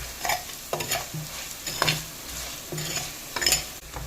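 Dried chilies sizzle and fry in a pan for a sardine curry, with a steady close crackle broken by repeated scraping stirs and occasional light clinks of a utensil.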